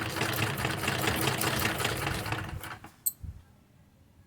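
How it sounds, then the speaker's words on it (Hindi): Sewing machine running steadily while stitching fabric for a salwar hem design, a dense continuous whir for under three seconds that cuts off, followed by a couple of faint clicks and near silence. "उसके बाद हम इस तरह से सिलाई लगा लेंगे"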